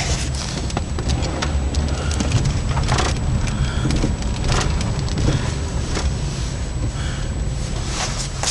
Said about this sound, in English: this car has been sitting around for 2 weeks, so it's probably unlikely that it's going to make a whole lot of racket